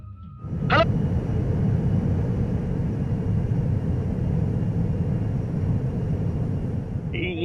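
An airplane flies overhead in a film scene, a loud sustained engine roar that swells in after a sharp high whistle-like sound and holds steady to the end.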